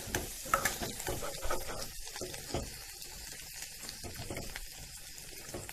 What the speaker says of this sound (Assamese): এতিয়া ইয়াত আমি অলপ কুহুমীয়া গৰম পানী দিছোঁ।